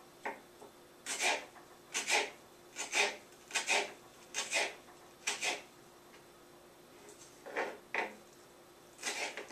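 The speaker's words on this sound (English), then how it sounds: "I try to cut up the jalapeno really small" A knife slices a jalapeno pepper into small thin slices on a board, giving about a dozen soft, rasping cuts in a steady rhythm, close and fairly quiet, with no talking.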